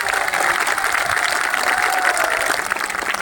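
A large crowd claps continuously at a protest at Jantar Mantar, a dense, loud wash of applause with no pauses and no voices standing out.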